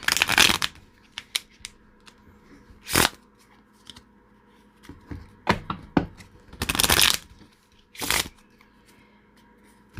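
Tarot cards being shuffled close up, with irregular bursts of riffling and papery slaps separated by quieter pauses and small taps, no voices.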